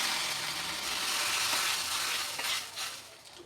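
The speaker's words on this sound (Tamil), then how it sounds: "இதில் கொஞ்சமாக சீரகம், கொஞ்சமாக கருவேப்பிலை இதை போட்டு அப்படியே இது மேலே ஊற்றுடும்" Mustard seed, cumin and curry leaf tempering poured over a South Indian dish, giving a steady close sizzle and crackle with a few louder pops, tapering off near the end.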